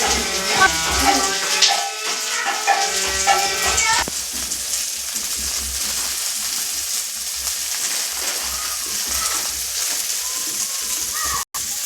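Pumpkin pieces fry in hot oil in a pan, a continuous close hiss and crackle that carries on alone after a few seconds of background music at the start.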